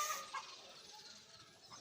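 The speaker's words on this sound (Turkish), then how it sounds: "tavuklarımız burada" Chickens in a newly built backyard coop give a few faint, brief clucks against a quiet outdoor background.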